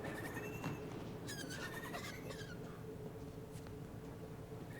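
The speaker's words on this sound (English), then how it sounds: "Hi, bird. Bye, bird." Small bird calls in the video game The Outer Worlds 2: a few faint chirps and trilling squeaks sit over a steady low ambient hum, fairly distant and soft, with short gaps between them.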